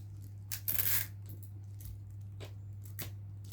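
Sticky tape is pulled off the roll while an order is wrapped for posting: one loud ripping strip near the start, then a few shorter, fainter tears and crinkles over a steady low hum.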